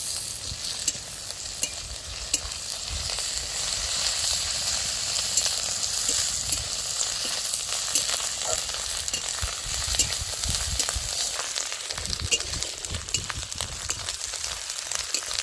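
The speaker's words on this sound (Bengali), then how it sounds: "এবার আদা বাটাটা দিয়ে দিচ্ছি, দিয়ে একটু ভালো করে মশলাটা কষিয়ে নিই" Ginger paste and spices stir-fry in hot oil for a Bengali bitter melon dish, a continuous loud sizzle with scraping stirring strokes throughout.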